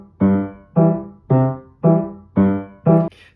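Piano boom-chuck accompaniment with the bass alternating between chord root and fifth, six evenly spaced struck chords in a steady rhythm, close and clear with no voice.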